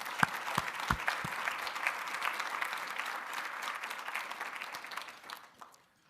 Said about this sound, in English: I'd just like to have a round of applause for everybody that has helped us with this program this year.